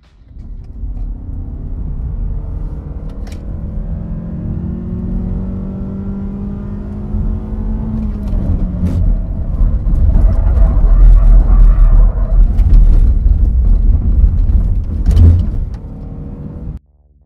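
A Mazda CX-3 holds a steady engine drone through a test curve at 100 km/h, then a deep road rumble and tyre roar swell loudly before fading near the end.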